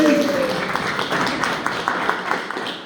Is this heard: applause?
yes